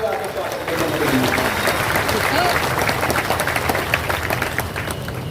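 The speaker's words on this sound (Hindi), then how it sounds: "जनार्दन मिश्रा जी का जोरदार ताली बजाकर स्वागत।" Crowd clapping to welcome a guest at a large political workers' rally in Semariya, Rewa district, a dense continuous patter of many hands, fairly loud and sustained throughout.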